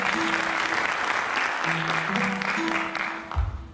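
Audience applause for the soloist at a Kardemir Music Club concert for the 29 October Republic Day, dense steady clapping throughout with faint tones and a brief thump near the end.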